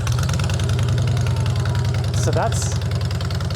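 A Honda Fury motorcycle fitted with a 2-into-1 exhaust idles loudly and steadily with a throbbing, lumpy rumble, while someone talks over it briefly.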